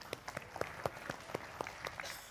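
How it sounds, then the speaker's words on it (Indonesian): A talk show audience gives light, scattered applause, a thin patter of individual claps at moderate distance, fairly quiet and sparse throughout. "Tepuk tangan dong"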